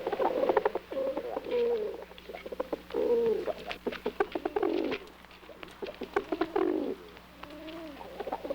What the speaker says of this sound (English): The pigeons glide down through the airwaves and land on their loft.